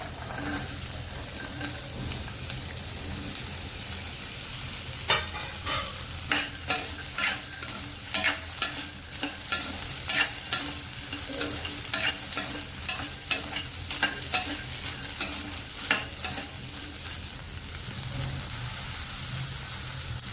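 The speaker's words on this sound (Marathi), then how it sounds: "थोड्या थोड्याशा भाज्या फ्राय करून घ्यायच्या" Carrots, peas and other vegetables fry in oil in a pan for a Kolhapuri-style curry, a soft continuous sizzle broken partway through by a run of quick, irregular stirring scrapes.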